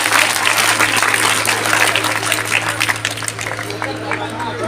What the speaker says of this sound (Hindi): तो सबके लिए जब जोरदार तालियां